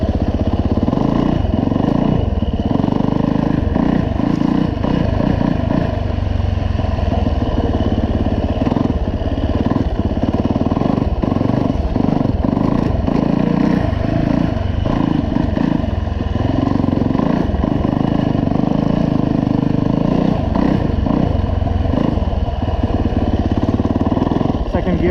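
A 450 dirt bike's engine lugs in second gear through woods, a continuous low, throbbing exhaust drone with slight rises and falls, close and loud, while a rider talks over it.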